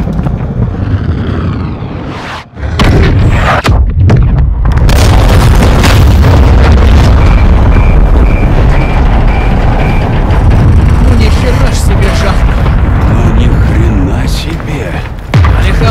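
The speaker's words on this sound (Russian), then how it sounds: "Внимание всем! Сейчас будет бум! ракета пошла." A loud booming rocket explosion in Call of Duty: Modern Warfare 2, with heavy low rumble sustained for many seconds, broken by brief dips and sharp bursts, with voices talking over it.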